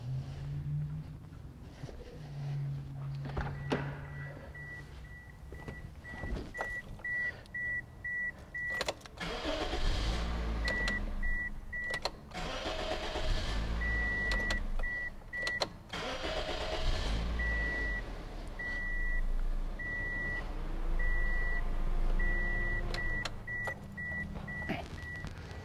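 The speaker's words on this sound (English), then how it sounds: "and then we're going to go ahead and start the car." A car starting and running during a battery, starting and charging system test, with engine rumble building after about ten seconds, repeated beeping tones over it, and faint earlier clicks and whirs as it cranks and settles into a steady idle.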